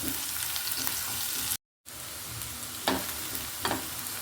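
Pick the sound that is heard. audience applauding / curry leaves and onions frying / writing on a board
curry leaves and onions frying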